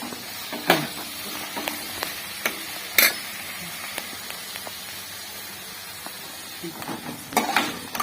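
Onions sizzle softly in a pan for potato kurma with a low, even hiss, broken by occasional sharp clacks of a spoon stirring against the pot.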